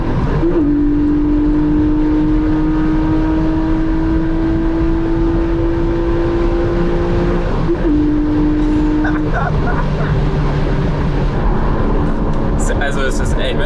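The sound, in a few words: Porsche 718 Boxster GTS 4.0 engine downshifting and revving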